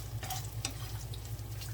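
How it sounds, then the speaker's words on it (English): Garlic sizzling in a pan on the stove, a steady soft crackle with a few brief clinks over a low kitchen hum, no talking. "Starting to sizzle again. Yeah, the garlic cooks very, very quick."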